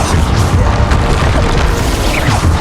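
A Bombarda spell in Hogwarts Legacy bursts into a loud, rumbling explosion that fills the whole span with dense crashing noise and no clear break.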